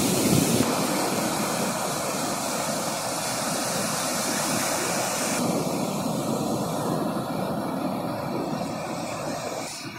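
Ocean waves surge and break continuously along a shore beside a stalled fishing boat, a steady broadband wash that stays loud and close throughout with no talk.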